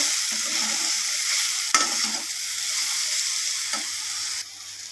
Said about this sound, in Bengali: এবার আমি মশলাগুলোকে আমি সয়াবিনের সাথে ভালোভাবে কষিয়ে নেব